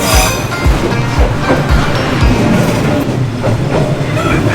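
A train rumbles past close by through a narrow street in Hanoi, Vietnam, its wheels clacking in a steady rhythm over the rail joints, loud and continuous.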